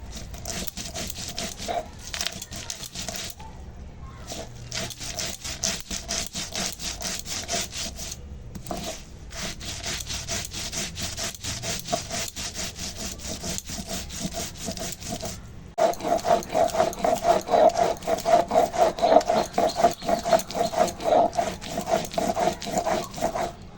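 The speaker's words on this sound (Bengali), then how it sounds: "মশলাটা বাটা হয়ে গেছে" Spices for a steamed shol fish dish ground by hand on a traditional stone slab, giving a long run of rhythmic back-and-forth scraping strokes, close, with brief pauses, and growing louder toward the end.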